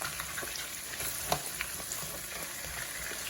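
Lobster frying and sizzling in a pan while being basted, a steady close crackle with a few sharper spits and pops throughout, no voices.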